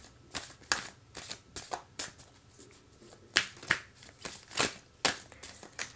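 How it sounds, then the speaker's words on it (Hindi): Tarot cards are shuffled close by in a run of quick, crisp riffling bursts, each a sharp papery flutter, repeating about a dozen times in an uneven rhythm. "बहुत डिफ़िकल्ट हो रहा है शफल करना आपके लिए।"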